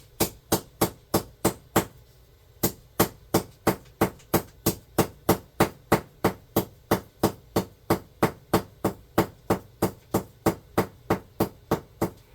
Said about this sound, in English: Why don't I just hammer this?